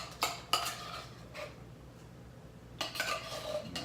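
Metal spoon scraping processed beans and chili from an open can, a few short separate clinks and scrapes with quiet gaps between them, close and fairly soft.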